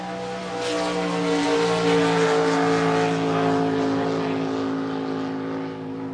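Race cars in a heat race roar past on a track, a loud sustained engine drone with layered harmonics swelling and easing as the pack goes by, no talking heard.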